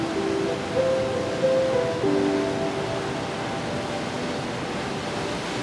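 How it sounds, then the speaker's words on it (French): Ocean waves wash steadily along a rocky Tenerife shore, a constant broad hiss of surf with faint tonal tones drifting over it. "L'océan et ses vagues juste là."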